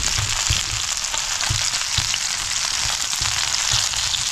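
Fish sizzling loudly in a hot pan while cooking over a night campsite, a steady dense fry with faint intermittent low knocks from turning the pieces.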